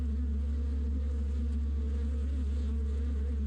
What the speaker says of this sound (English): the buzzing sound grew louder